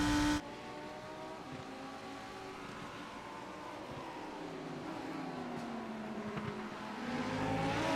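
Racing cars at Zandvoort in a sim racing game produce a continuous engine drone with shifting rising pitches, steady and moderately loud with no talk.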